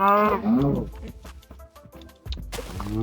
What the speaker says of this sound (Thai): ทำไมตรงนี้วัวเพียบ